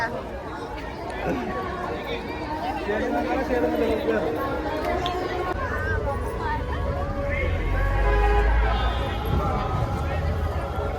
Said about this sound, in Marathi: जाम गर्दी आहे इथं.